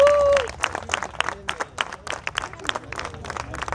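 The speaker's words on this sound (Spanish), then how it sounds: "Un aplauso para ellos." A crowd at an outdoor education march applauds the road safety escorts, scattered claps and cheers mixed with voices talking over the applause.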